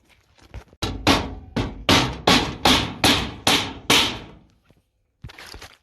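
Metal panel being bent for a homemade automatic chicken feeder, heard as a series of about seven sharp, loud knocks or hammer-like strikes in steady rhythm, close up, followed by a brief pause and another impact.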